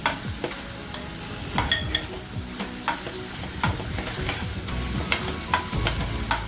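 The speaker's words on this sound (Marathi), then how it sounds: "आपल्याला कांदा आहे ना लालसर करून घ्यायचा आहे" Onions fry in a pan for smoky mutton keema, cooking toward reddish brown, with a continuous close sizzle punctuated by frequent sharp spatula scrapes and knocks against the pan at an uneven rhythm, loud and without voices.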